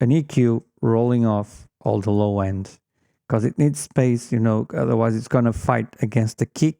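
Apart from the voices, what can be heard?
No everyday noise stands out behind the speech.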